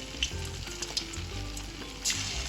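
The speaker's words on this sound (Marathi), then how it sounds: "असं हे मी सर्व घालून फ्राय करून घेणार आहे" Chicken pieces for crispy chilli chicken frying in hot oil, a steady close sizzle with scattered pops and light crackles, no voices.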